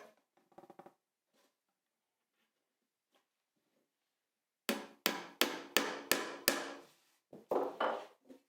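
Nails driven with a hammer and nail set into a pre-drilled wooden trug: a quick run of about six loud, sharp strikes, then a short scraping burst, after earlier faint taps and quiet movement.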